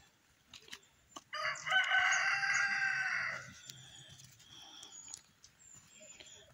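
A rooster on a farm gives one loud, long crow near the microphone, followed by softer clucking from chickens being fed bread.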